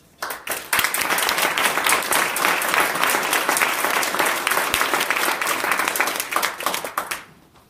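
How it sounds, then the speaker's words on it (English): An audience at a university thesis-presentation competition breaks into a big round of applause, dense clapping that swells quickly, holds steady for several seconds, then thins out and fades. "I'd like all of us to encourage them with a big round of applause"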